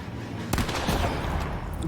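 A single loud gunshot in the video game The Quarry cracks sharply, followed by a short echoing tail and some rumbling noise afterward.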